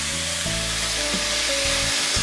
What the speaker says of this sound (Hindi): तेल गर्म हो चुका है, इसमें हम प्याज डालेंगे, इसको हम 2 मिनट भून लेंगे